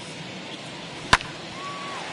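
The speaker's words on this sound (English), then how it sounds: "Hit well down the left field line, but back into the crowd foul." A single sharp crack of a baseball bat striking a pitch in MLB The Show 21, a crisp isolated hit over low stadium crowd ambience.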